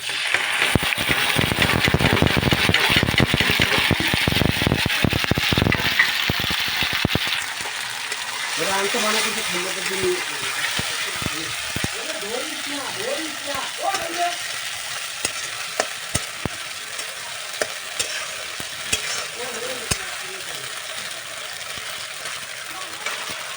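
Ground spice paste sizzles and fries loudly in a pan with scraping stirs, then the sizzle settles lower as a voice talks over it.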